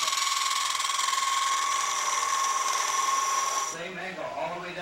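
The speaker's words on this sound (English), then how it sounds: "you can actually take a skew chisel, come up to the angle" A wood lathe spins while a skew chisel cuts the turning, giving a steady high-pitched whine and hiss that drops away near the end into a lower rumble.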